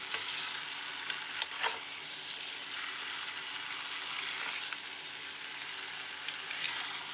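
Chicken pieces being browned and stirred in a pan for a potato chicken curry, a quiet steady sizzle with occasional scraping strokes of a spatula, no voices.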